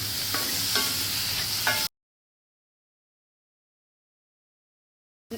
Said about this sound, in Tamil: கொஞ்சம் கருவேப்பில் தேவையான அளவு உப்பு சேர்த்து நல்லா வதக்கிடலாம்